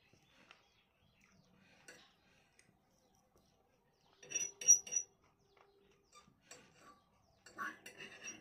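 A knife and fork cut into a somewhat tough steak on a plate, with faint scattered clinks and two short bursts of scraping and tapping against the plate in a quiet room.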